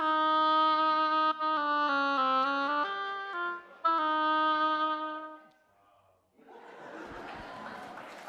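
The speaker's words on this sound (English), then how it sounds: "if I put my reed in the oboe, it sounds like this" Tones from an oboe with its reed in a church, a series of held and stepping notes played clearly and fairly loud, followed by brief quiet and then a burst of audience chuckling.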